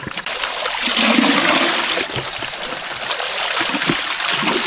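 Steady loud rush of water pouring through a gold wash plant fed two scoops of material at a time, a continuous close-up gush with occasional splashes and no talking.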